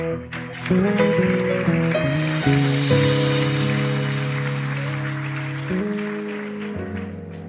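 A church congregation applauding for Jesus, the clapping blended under sustained music with organ-like held tones, fairly loud and continuous.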